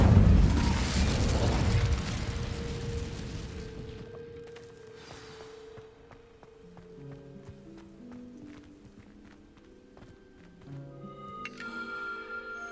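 A burst of fire from an Incendio spell cast in the Hogwarts Legacy video game, a loud whooshing roar in the first two seconds that fades, followed by soft game music.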